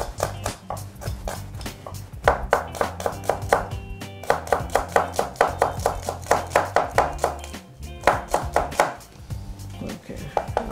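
Kitchen knife chopping a hot chili pepper on a cutting board for a summer corn salad, a quick steady run of crisp knife taps close up, pausing briefly twice before resuming.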